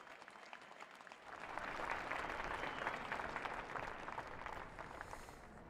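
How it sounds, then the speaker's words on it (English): Inauguration audience applauding the president at a large outdoor ceremony, a sustained broad wash of clapping that swells after the first second and holds steady, dense and moderately distant. "let us welcome our President and his address with another round of applause"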